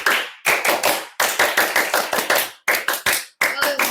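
A group does Pramuka scout-style rhythmic clapping. The sharp, close claps land in quick patterned bursts and pause briefly between phrases.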